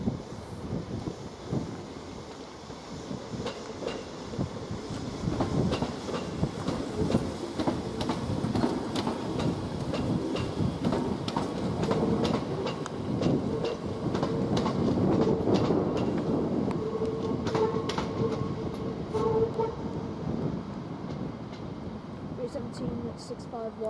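A Greater Anglia Class 317 electric train runs through Cambridge station on a Stansted Airport service. Its steady rumble and clattering wheel clicks stay loud and near throughout, with wind buffeting and a voice heard over it.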